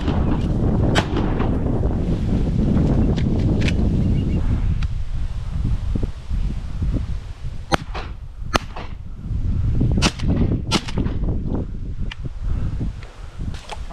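Shotgun blasts while hunting ducks, geese and doves outdoors, several sharp loud reports spread irregularly over steady wind and rustle.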